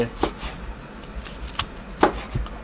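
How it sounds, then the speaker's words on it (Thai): A knife chopping something crisp on a board, sharp irregular cuts spaced apart, close by with a faint voice underneath. "เราก็จะมาหั่นหมูกรอบก่อนเลย"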